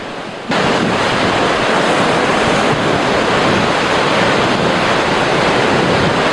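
Sea waves surge continuously against the rocky coast at Deokbongsan in Samcheok on Korea's east coast, a loud, steady roar of surf with wind buffeting the microphone and no voices.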